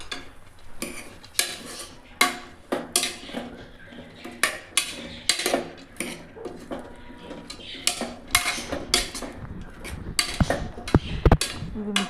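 A spoon stirring chow chow kootu with dal in a pan, with repeated scraping clinks in an uneven rhythm, close and clear, with light sizzling underneath.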